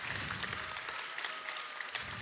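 Warm audience applause at a Swedish festival semifinal in a hall, a dense, steady wash of clapping held at a constant level throughout, with no voices above it.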